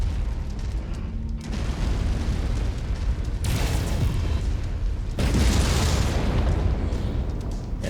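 An enemy ground vehicle blows up in the mech combat game MechWarrior 5, a heavy, roaring explosion with sustained rumbling blasts that swell twice more, loud and continuous with no talk.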